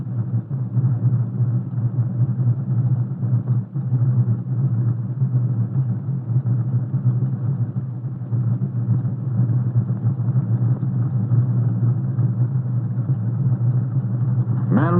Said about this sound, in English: a fleet of mixer trucks which moves down the forms, filling them with concrete